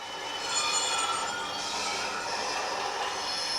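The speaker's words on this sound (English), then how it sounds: "I've just applied the brake there" A model railway Class 40 locomotive brakes while pulling rolling stock, producing a continuous high, hissing squeal over a steady running rumble, close and fairly loud, with no talking.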